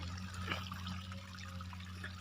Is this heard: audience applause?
no